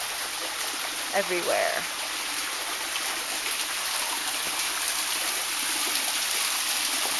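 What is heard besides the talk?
water flowing in a canyon stream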